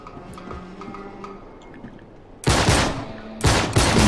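Gunfire in the video game Uncharted 3, with faint ticking and tones first, then two loud bursts of rapid shots, each sustained for about a second, with no talking.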